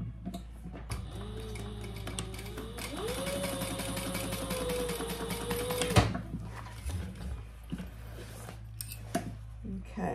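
A sewing machine stitches across the front of a fabric clutch just below a card slot, a steady mechanical whir with rhythmic needle ticking for several seconds, then stopping, with quiet handling noises and faint room sound afterward.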